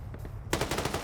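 Gunshots in a PvP video game match: a dense, rapid rattle of automatic fire that starts abruptly halfway through and continues loud and close, above a low background rumble.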